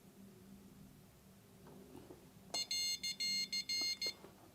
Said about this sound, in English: the buzzer is not very loud, but when I crank up the volume